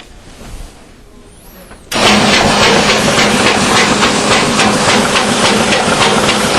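After a quiet start, a Duplo V-350 high-speed forms burster suddenly starts up into a loud, steady mechanical roar with fast rhythmic clatter, close by, as it trims tractor-feed strips off paper.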